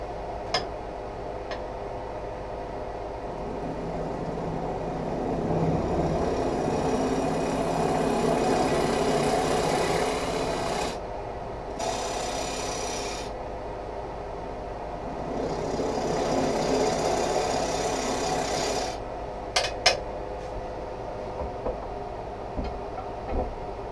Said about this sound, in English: I'm again going to use a parting tool just to start it.